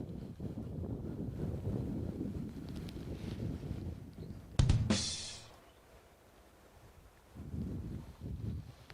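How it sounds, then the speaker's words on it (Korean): Gusty wind buffets the microphone at a walk-in seaside fishing spot facing an island, a steady low rumble that spikes in a brief loud burst before easing and then rising again. "아니나 다를까 지금 바람이 있습니다"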